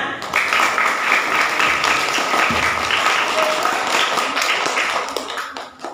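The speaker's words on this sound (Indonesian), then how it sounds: "Tepuk tangan." Applause from a group during a storytelling lesson, a steady dense clatter of many hands clapping that carries evenly for about six seconds and then tapers off, with faint voices underneath.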